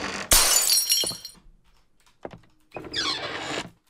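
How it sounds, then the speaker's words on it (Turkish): Glass window shattering in a horror video game: a sharp, loud crash followed by tinkling shards, then a brief quiet and a second burst of breaking glass trailing off. "Cam kırılmış."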